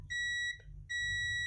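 A continuity tester gives two sharp, high-pitched electronic buzzer beeps close up, separated by a brief pause, the second one held steady.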